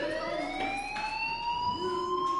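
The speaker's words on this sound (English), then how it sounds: "do you hear that fire alarm? That means you should be outside" A school fire alarm in the game Life is Strange rings as a steady, piercing electronic tone that holds on continuously at moderate loudness, with faint background sounds and no speech.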